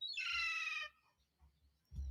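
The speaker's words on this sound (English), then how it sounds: "Get out of the flowers, you stupid bird." A garden bird gives one loud, bright harmonic call lasting under a second, close by, then only a low rumble and faint sounds follow.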